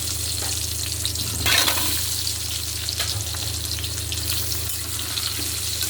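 Potato pieces rubbed with salt and turmeric fry in hot oil, a dense continuous sizzle heard up close and loud, with a brief louder flare early on and faint stirring, no voices.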